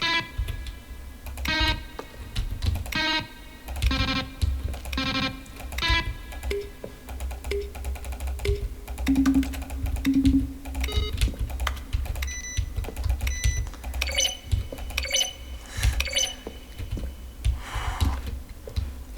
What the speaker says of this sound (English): A selection of the sounds used throughout the game when buttons are pressed. Each sound is a mix of a keyboard and synthesized tone.